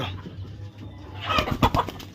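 A backyard chicken being held, giving a few short, close clucks near the end over a low background hum.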